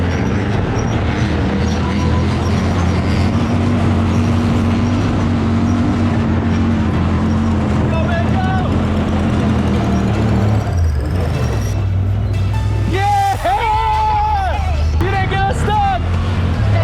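Side-by-side off-road vehicle powering up a big sand dune at Silver Lake Sand Dunes, a loud continuous engine drone with wind buffeting, rising engine whine near the end and voices talking over it.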